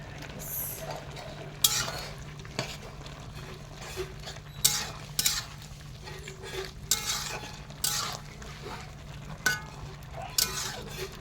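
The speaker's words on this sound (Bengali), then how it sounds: "লাউ রান্না হচ্ছে চিংড়ি মাছ দিয়ে" Bottle gourd cooking with shrimp in a pan, stirred with a utensil that scrapes and clinks against the metal in repeated sharp strokes over a low constant sizzle, close and fairly quiet, with no talking.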